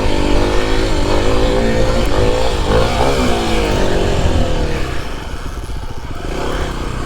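A dirt bike engine revs hard and continuously during a wheelie attempt, loud and close, with the pitch climbing and falling through the throttle.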